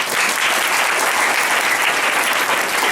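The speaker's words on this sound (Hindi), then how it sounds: "जोरदार ताली से धन्यवाद" Loud, dense applause from a church congregation at a prophetic Yesu ministry gathering in Mahpur Kaithaliya, steady and sustained throughout with no break.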